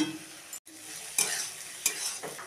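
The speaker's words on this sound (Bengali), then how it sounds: "আমি এবার কাজুটা আর কিশমিশটা সবজির ওপরে দিয়ে দেবো, দিয়ে একটু ভেজে নেব।" Cashews and raisins frying with vegetables in a pan give a brief crackling sizzle broken by short clatters of stirring, close by and with no voices.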